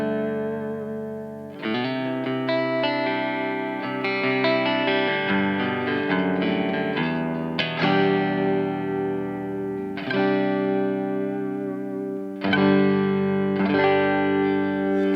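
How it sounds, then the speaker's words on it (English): Sustained chords ring out on a Kramer shred electric guitar played with a clean tone, a few strummed chords each left to sustain with a touch of reverb, loud and alone without talk. "Let's get some clean tones actually."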